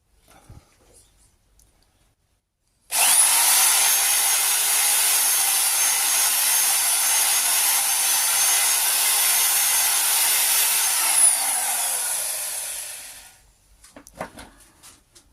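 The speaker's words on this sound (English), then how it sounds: "I'm just going to sand the end up a bit, or just rough it up a bit." A sander roughs up the cut end of a rear screen rubber on a Simca Aronde Plein Ciel, a loud steady whir running for about ten seconds before winding down, with quiet handling noise either side.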